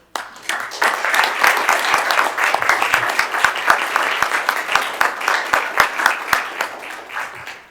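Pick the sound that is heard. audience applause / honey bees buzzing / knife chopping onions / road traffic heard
audience applause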